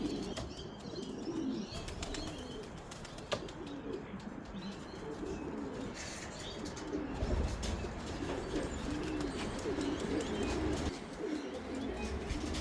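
Racing pigeons back at the loft after a 350 km race, soft cooing and occasional wing flaps over a steady outdoor background, fairly faint and continuous.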